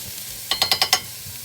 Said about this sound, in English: this would be the process where you're doing the saute, where the shaking would occur